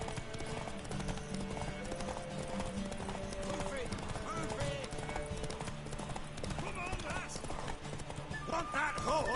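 Horse hooves clip-clop steadily in The Witcher 3, with a horse neighing and whinnying amid game music and ambient noise, while voices talk over the scene.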